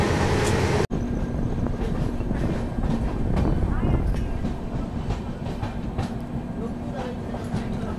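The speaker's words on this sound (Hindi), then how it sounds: "तो ये हमारी ट्रेन फिलहाल पहुंच चुकी है SSS हुबली जंक्शन।" Passenger train on the Bangalore to Goa route pulling into Hubli junction, a steady rolling rumble with clickety-clack of wheels over rail joints, heard from inside the coach, continuous after a brief cut near the start.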